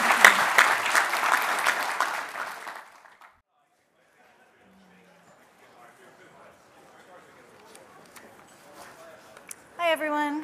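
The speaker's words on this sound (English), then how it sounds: "a round of applause for our panelists" Audience applause for a panel at a public-private partnerships session, a broad burst of clapping that lasts a few seconds and then cuts off into near silence with faint room noise and murmuring.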